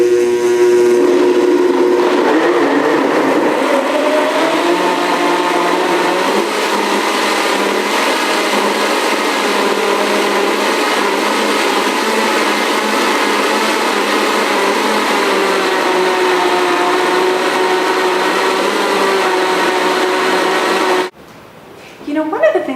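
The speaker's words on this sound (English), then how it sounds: "I just touch the button, it accelerates and decelerates on its own" A Plantec blender runs its soup setting on butternut ginger curry soup, a loud steady motor whir with shifting pitch as it speeds up and slows down on its own, going for about twenty seconds before cutting off abruptly.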